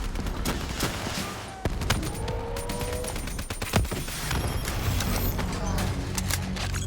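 Rapid gunfire and explosive missile blasts in the Call of Duty: Black Ops 3 combat mission, dense continuous shooting with heavy thuds and a shouted voice over the battle.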